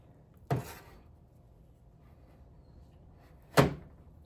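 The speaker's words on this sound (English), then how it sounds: "And into my preheated oven it goes." An oven door shuts after a streusel-topped bundt coffee cake goes in, two separate solid thuds about three seconds apart against a quiet kitchen background.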